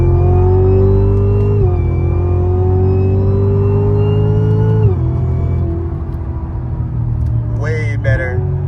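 A Cadillac CTS-V pulls hard from third gear during a roll race, its loud engine note climbing steadily with clear harmonic sweeps, dropping at a gear shift near five seconds, then climbing again as the car keeps accelerating.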